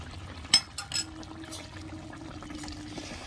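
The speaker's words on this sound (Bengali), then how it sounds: "চিড়ে রাখা কাঁচা লঙ্কা দিয়ে দিচ্ছি সর্ষের তেল দিয়ে দিচ্ছি" Raw mustard oil pours into a pan over green chilies as a few short, soft splashy bursts near the start, then a faint low trickle and quiet background.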